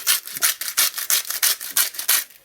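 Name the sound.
salt grinder grinding salt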